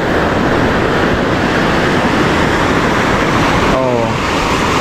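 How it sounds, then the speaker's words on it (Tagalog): Strong ocean waves crashing and surging as a dense, loud, continuous roar close to the microphone, with a brief voice near the end. "sobrang lakas yung alon"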